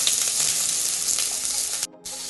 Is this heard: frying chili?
yes